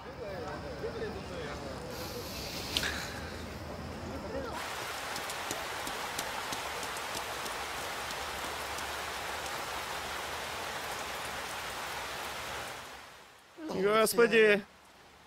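Steady rain pours down on a surface through most of the clip, a dense even hiss that cuts off near the end, with a person talking and calling out over the downpour.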